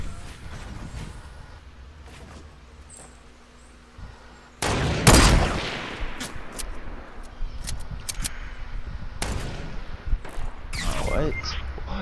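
Fortnite gameplay gunfire: a sharp, loud shot cracks out in the middle, followed by scattered further shots and rattling game noise at moderate distance.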